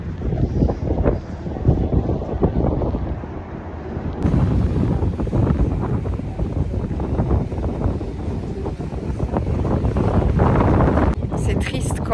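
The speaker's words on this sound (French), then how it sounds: "Il n'y a pas de soleil, mais du vent." Wind buffets a microphone on a street in Paris, a steady loud roar and rumble with gusty surges, continuous throughout and close.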